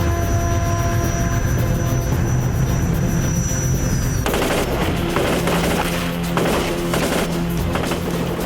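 Minimi machine guns and 203 grenade launchers are test-fired while being zeroed. Loud, rapid bursts of automatic fire rattle over a constant engine-like drone, and the shots grow sharper and denser in the second half.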